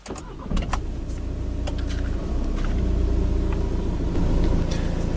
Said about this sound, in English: Just apply the clutch and turn the key to start the car.